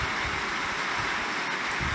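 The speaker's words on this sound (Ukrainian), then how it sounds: "Ну, тепер дощик мочить, допомагає нам." Steady summer rain hisses softly on surfaces nearby at a building site, a continuous even patter with no voices.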